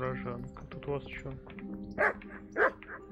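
A dog in a video game barks in a few sharp, separate yelps spread over a few seconds, loud and close, mixed with game sounds and a man's speech.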